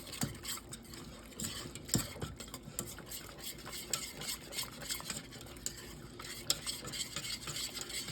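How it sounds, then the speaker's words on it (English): Country gravy for chicken fried chicken is stirred steadily in a pan, a quiet, continuous run of scraping and soft tapping strokes over a faint sizzle. "Keep on stirring. You don't want no lumpy gravy."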